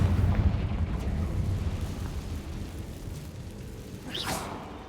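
A Confringo spell explosion from Hogwarts Legacy sets off a deep, rumbling blast that fades slowly, and a short bright crackling burst follows near the end.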